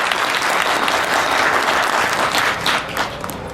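Audience at a Republic Day kavi sammelan in Nand Gram, Ghaziabad, breaking into loud, dense applause that holds steady, then thins and fades near the end.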